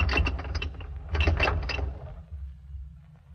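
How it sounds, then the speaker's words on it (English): Chain on a radio sound-effects windlass, a roller turned so it throws the chain against two rollers, giving a rhythmic metallic clanking in bursts that fades toward the end. "When the roller is turned, it throws the chain against the 2 rollers, causing a rhythmical clanking"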